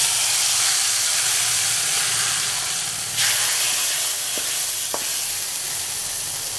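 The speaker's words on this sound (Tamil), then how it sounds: "இப்போ அதை அப்படியே எடுத்து இந்த சிக்கன் கிரேவியில் நம்ம ஊற்றலாம்." A fried tempering is poured into a chicken cashew nut gravy and bursts into a loud, steady sizzling hiss that swells for a moment. A couple of light utensil taps follow and no one speaks.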